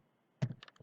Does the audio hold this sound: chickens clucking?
no